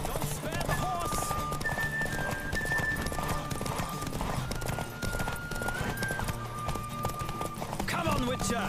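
Rhythmic hoofbeats of a galloping horse in The Witcher 3: Wild Hunt, with busy game sound effects and music, a voice talking over it throughout.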